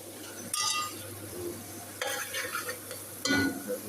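Ginger and garlic frying with onions in a pan, with a low sizzle beneath three bursts of spatula stirring and scraping, close by.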